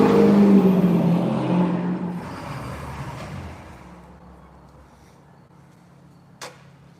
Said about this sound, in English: Hey, we got a car here.